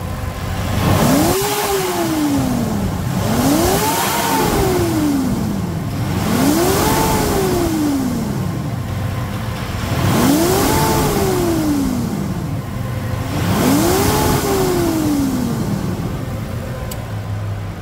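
A Mitsubishi Pajero Dakar with a V6 Flex engine revs hard five times in a steady rhythm, each rise and fall of pitch loud and close, with no voices over it.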